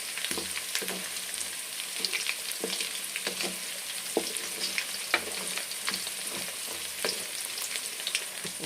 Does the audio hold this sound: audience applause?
no